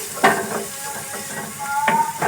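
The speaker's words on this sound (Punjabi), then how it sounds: "ਮਸਾਲਿਆਂ ਨੂੰ ਇਸ ਤਰੀਕੇ ਦੇ ਨਾਲ ਹੀ ਅਸੀਂ ਭੁੰਨਾਂਗੇ" Masala spices roast and sizzle in a pan for keema matar, a steady close frying hiss broken by several sharp scraping stirs, with no one talking.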